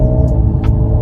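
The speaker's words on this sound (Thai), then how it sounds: "อันนี้คือเสียงสปอร์ตของเขา" A deep, rumbling synthesized sporty engine tone from an Ora 07 electric car drones steadily, loud and close, with no voices over it.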